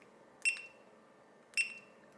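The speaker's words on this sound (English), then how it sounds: "this is the alarm repeat 1 time, 3 times, 5 times, 7 times, and 9 times." A Retekess TD108 calling system alarm sounds two sharp, high electronic beeps about a second apart, each brief and clear against a quiet background.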